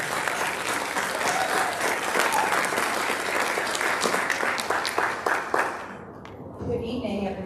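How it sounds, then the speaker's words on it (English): Audience applause fills a school board meeting room, dense steady clapping for about six seconds before it fades into a voice beginning to speak. "So please, a round of applause for our music chair, Ms. Hartman."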